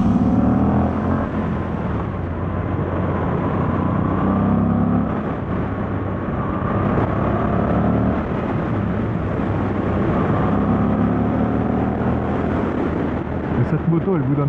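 A motorcycle with a BMC air filter mounted just under the seat runs on the road, its engine a steady loud drone with a continuous rumble and no talking over it.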